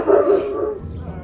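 Dogs barking at a visitor, a loud close burst of barks and yips that fades into a softer whine, with a voice speaking nearby.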